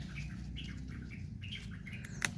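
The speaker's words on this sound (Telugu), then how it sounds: "చూసిర్రా పిట్టలు నేను ఎప్పుడు వెళ్ళిపోవాలని చూస్తున్నాయి అవి తినడానికి" Faint, scattered bird chirps come from a home vegetable garden of beans, tomatoes, chillies and brinjal, with a few short tweets over a quiet outdoor hush and one sharper call near the end.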